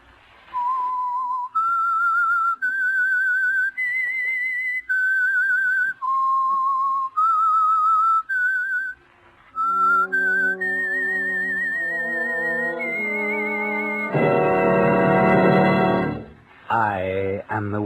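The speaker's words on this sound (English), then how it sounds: "That whistle is your signal for the Signal Oil Program" A whistled theme tune for The Whistler radio mystery program, a clear solo melody of sustained notes stepping up and down, then joined near the end by an orchestral swell that rises to a loud full-band chord.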